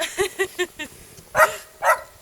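Excited sled dogs in Lapland bark in a quick string of yips, then two louder, sharper barks follow after a short pause, fairly close.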